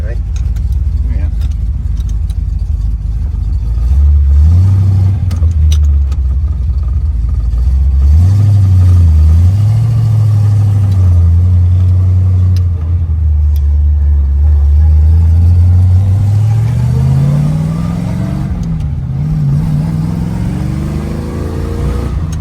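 Engine of a 1964 Chevrolet Corvette coupe on the road, a steady low drone that rises and falls with the throttle as it drives along, with people talking over it inside the car.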